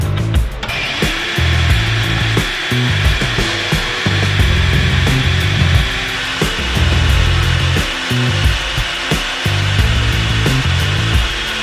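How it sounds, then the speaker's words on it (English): A plasma cutter slices through metal in a hot garage, a continuous harsh hiss and crackle close by, with a fan running steadily underneath and scraping, rubbing noises throughout. "I'm also cutting with the plasma cutter, which doesn't help the matters either."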